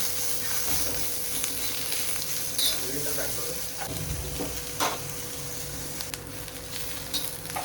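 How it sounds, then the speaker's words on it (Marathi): Sliced onions roasting in a little oil in a pan for a Kolhapuri-style meal, giving a steady close sizzle with occasional stirring scrapes and faint background voice. "उभे कांदे कट करून त्याच्यात थोडंसं ऑइल ॲड केलं आहे आणि तेही आपण लालसर होईपर्यंत थोडे भाजून घ्यायचे"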